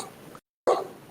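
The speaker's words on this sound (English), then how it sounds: "You can hear him barking." A pet dog barks once, close and sharp, after a short silence that follows a brief stretch of low talk.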